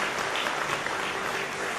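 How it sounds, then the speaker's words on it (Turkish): Applause fills an award ceremony as a winner comes to the stage, a dense, even clapping from a crowd held steadily throughout. "Hasan Basri Kayakıran alkışlarla sahneye geliyor."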